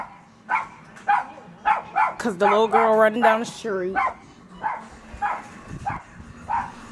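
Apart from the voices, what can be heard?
dog barking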